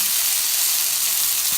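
Meatball sauce cooking in a pan gives off a steady, loud, broadband sizzle and hiss, with no talking over it.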